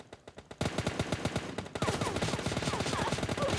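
Rapid automatic gunfire from the PUBG Mobile Lite video game rattles in fast continuous bursts, loud and dense, with a few scattered shots at the start before the sustained volley and no talking over it.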